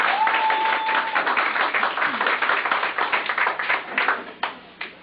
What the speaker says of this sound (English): thank you all for that very humbling applause and ovation